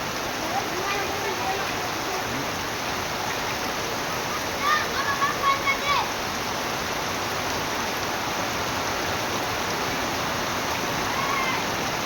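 Water gushes steadily from a drain in a continuous splashing rush, with brief faint voices in the background.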